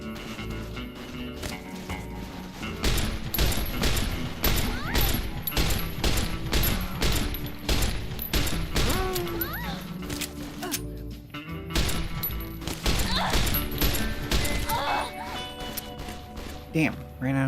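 Rapid bursts of gunfire in a video game crackle and crash almost without pause, loud and close, with a few brief gaps between volleys and faint voices underneath.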